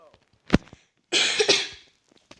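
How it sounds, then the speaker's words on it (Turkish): A sharp single cough rings out close up, followed a moment later by a longer, rougher throat-clearing cough burst. "öksürük geldi"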